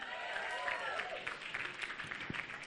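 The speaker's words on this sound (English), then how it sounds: "Big round of applause for our groom." Wedding guests clap for the groom at a reception, a steady wash of applause that fills the short stretch at moderate level without pause.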